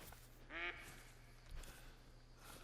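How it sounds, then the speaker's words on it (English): A duck in the hunting video game Hunter Call of the Wild, set in New England mountains, lets out a single faint quack from a distance, followed by soft rustling over a quiet outdoor ambience. "I hear a duck or something."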